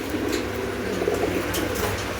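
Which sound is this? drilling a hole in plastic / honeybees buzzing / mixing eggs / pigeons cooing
pigeons cooing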